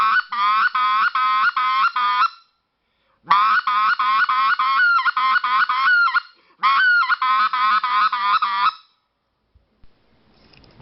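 A hand-blown goose call produces rapid runs of honking clucks in three bursts separated by short pauses, each run a quick rhythmic train of sharp, reedy notes, close and loud, with no talking.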